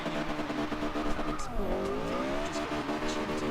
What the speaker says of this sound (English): we're still doing a burnout at 150 miles an hour